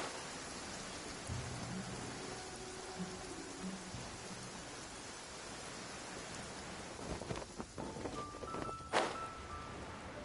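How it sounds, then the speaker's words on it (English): Rain falling in a courtyard in Genshin Impact, a soft steady patter with faint low rumbles and a few brighter clinks near the end, gentle and continuous. "I love listening to the rain from the courtyard"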